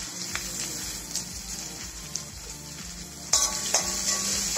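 Sliced onions sauté in a mix of ghee and oil, giving a continuous close sizzle with scraping stirs, a low steady hum beneath, and a louder burst of crackling near the end.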